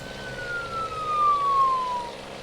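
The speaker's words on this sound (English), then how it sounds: "That ambulance is busy as fuck." An ambulance siren in Euro Truck Simulator 2 wails as a single clear descending tone sweeping past, moderately loud over a low road hum.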